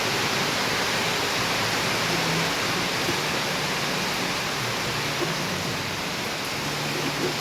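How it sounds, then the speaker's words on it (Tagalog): Heavy rain pours down steadily outside a house under construction, a dense, loud, unbroken hiss with no pauses and no voices. "Grabe ang lakas ng ulan."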